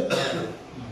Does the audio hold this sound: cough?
yes